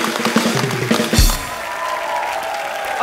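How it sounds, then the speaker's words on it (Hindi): Studio audience applause on a Hindi comedy talk show, loud and sustained clapping from a large crowd that swells and then holds steady, with music and a host's voice before it. "राजीव के लिए जोरदार ताली"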